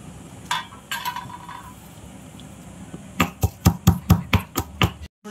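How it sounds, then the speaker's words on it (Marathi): Garlic pounded in a mortar and pestle, a few scattered knocks followed by a rapid run of about ten loud, evenly spaced thuds near the end, close and without talk. "आता आपण हे खलबत्त्यामध्ये कुटून घेऊया"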